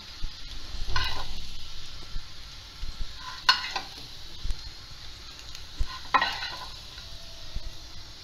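Crispy fried potato slices being lifted out of a pan of hot oil, with a low continuous sizzle, soft scraping and clinking of a utensil against the pan, and occasional louder stirring bursts. No one speaks.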